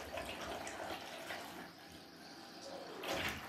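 Warm water runs from a tap into a container, a steady close rushing stream that swells louder near the end, with no talk over it.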